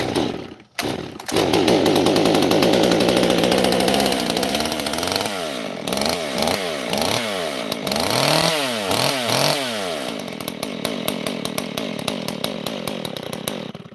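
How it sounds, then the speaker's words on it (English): Repeated pull-start attempts on a flooded chainsaw: about ten rapid rasping recoil pulls in a row, each sputtering without catching, close and loud over a steady engine-like drone, then trailing clicks and rattles. "I put a few, probably like 5 or 6 more pulls on it to choke it and flood it completely"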